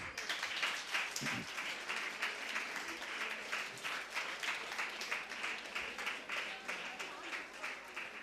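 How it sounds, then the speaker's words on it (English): An audience claps together at a gift and prize distribution event, rhythmic rapid clapping sustained for several seconds at moderate distance, with a voice speaking faintly underneath. "clap your hand."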